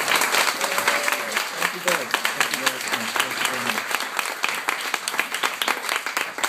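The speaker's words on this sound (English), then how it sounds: "Let's applaud them first." Sustained audience applause fills the room in steady, dense clapping from start to finish, while a speaker's voice thanks the guests over the top.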